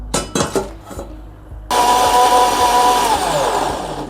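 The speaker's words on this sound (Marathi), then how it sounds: "आता हे मिक्सरला वाटून घ्यायचं" A kitchen mixer grinder grinds red chilli chutney, starting after a few clinks and knocks of the jar, then a loud, steady motor whine that holds for several seconds before easing slightly, with no talking.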